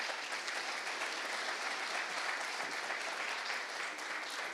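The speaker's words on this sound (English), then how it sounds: "let's give these guys a big round of applause" Audience applause at an LPG industry summit hall, a steady dense wash of many hands clapping that holds evenly throughout at moderate volume, with no voices standing out.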